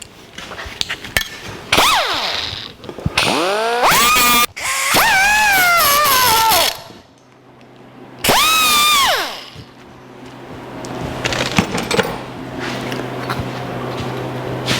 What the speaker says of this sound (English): I'm going to try the air grinder to see if I can grind it down to the line